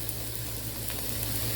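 Food sizzles and crackles steadily in a hot pan, a continuous close frying hiss with small pops.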